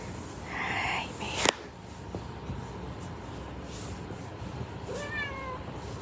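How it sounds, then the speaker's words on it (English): A Siamese cat gives a couple of short, fairly close meows with a sharp knock between them, over quiet indoor background. "Siamese are talkative to begin with, but she's been like extra meowy with me"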